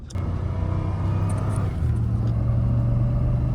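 A flood-damaged Cadillac DTS limo with 178,000 miles accelerates at part throttle, its engine a steady, close low drone that climbs in pitch partway through, heard alone without talk.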